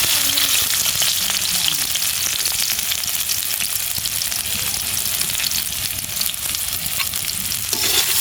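Chopped onions frying in oil for a meat curry, a loud, constant close sizzle with crackling bursts and occasional stirring scrapes in the pan, and no talking.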